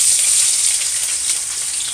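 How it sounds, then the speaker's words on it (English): Onion and seasoning for fish fry in a pan, giving a loud, steady, close sizzle that hisses evenly throughout with no talking. "I'm gonna fry up this seasoning for my fish"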